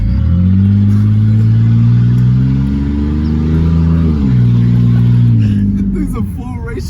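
A Chevy S10 truck with no muffler revs loud and close, its raw, blatting exhaust note rising and falling in steady surges before dropping off near the end.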